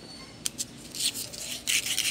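Quiet, uneven strokes of very fine sandpaper scuffing across a metal electric fan shaft, starting with a few short scrapes and building into longer rubbing passes.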